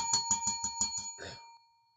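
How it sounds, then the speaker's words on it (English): A stock-market bell rung during a live trading session, a quick run of six or seven sharp rings in a steady rhythm followed by a brief fading rattle, close and clear with no talk. "Ring the bell."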